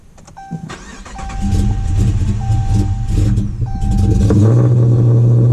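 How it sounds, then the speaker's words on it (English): A Dodge Charger R/T running on E85 cranks over with a rising whir, catches and settles into a loud, deep idle close by, a chime beeping intermittently over it. "See how it'll crank. Wants to start."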